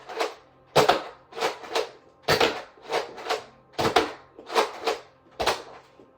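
A Nerf Elite Roughcut 2X4 shotgun-style blaster fires two darts at once, heard as about ten sharp, close plastic clacks and whooshes in a loose, uneven rhythm of pumping and shots, with no talking.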